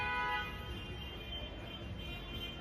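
Car horns honk in a London street, steady and fairly distant, over a continuous wash of traffic noise, with no voices.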